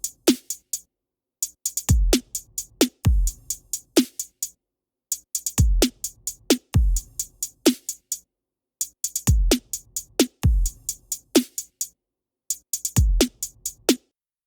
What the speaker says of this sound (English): What I've done is to import one of the Logic loops into this project.